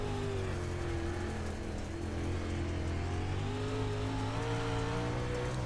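Race cars in the iRacing sim, an American Sim Racing Club event at Fairbury, hold a steady loud engine drone with a sustained pitch that rises and shifts as they run on-board, continuous with no talk.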